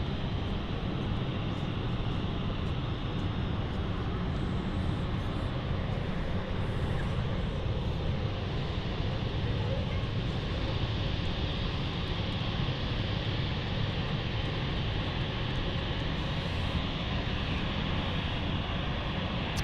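Aircraft taxiing at London City Airport, a constant broad engine rumble and rushing whine heard from a distance, steady and unbroken for around twenty seconds, with no voices.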